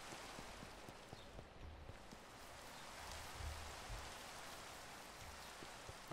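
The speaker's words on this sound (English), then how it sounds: "That rain is doing my head in" Rain falling in modded Minecraft makes a steady, even hiss with soft scattered drop ticks throughout, and no one speaks.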